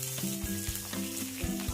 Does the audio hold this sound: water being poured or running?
no